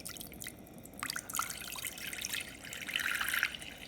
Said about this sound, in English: So first I'm going to add my 4 cups of water.